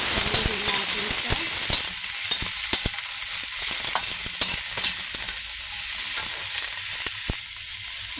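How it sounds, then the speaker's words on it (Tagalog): Asparagus sautés in a hot pan with a loud, continuous sizzle and frying hiss, punctuated by repeated clicks and scrapes of stirring throughout. "Lagay natin yung asparagus. Ayan. Gigisahin natin siya."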